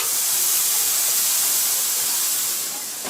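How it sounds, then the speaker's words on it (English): Buffalo tri tip, already smoked over applewood chunks, searing with a loud, steady hiss that holds evenly and eases slightly near the end. "so time to give it that sear"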